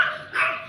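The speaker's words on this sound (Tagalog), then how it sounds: "Cute ng mga aso guys." Dogs on a street bark in a brief, moderately close burst, with a second louder yelp partway through and no talking over them.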